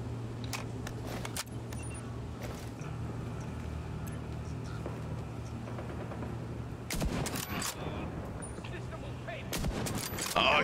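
Rifle fire in The Division 2 video game: scattered sharp single shots and short bursts over a steady background hum, with a dense, louder volley of gunfire near the end.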